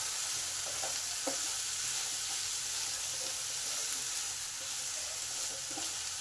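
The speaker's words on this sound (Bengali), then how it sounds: "দু মিনিট কষে নিলাম যাতে সমস্ত সবজির কাঁচা গন্ধটা চলে যায়" Drumstick flowers and vegetables sautéed with turmeric and salt, giving a steady, loud frying hiss throughout with a few soft stirring knocks.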